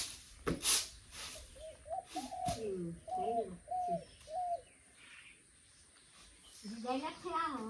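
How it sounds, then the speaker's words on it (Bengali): A dove coos in a series of soft, hollow notes, then again toward the end after a pause. There are a couple of sharp knocks at the start, and a voice is faintly present in the background. "ঘুঘু পাখির ডাক সুন্দর আছে।"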